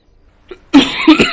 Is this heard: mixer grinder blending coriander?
no